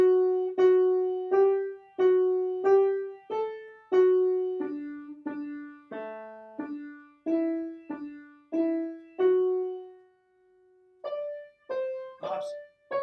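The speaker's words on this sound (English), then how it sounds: "This is a canon for 4 voices" A four-voice canon, sung with separate voices entering in turn, with clear sustained notes moving in a steady, stepwise rhythm; phrases overlap, there is a brief pause near the end, and then a few brighter notes follow. No talking.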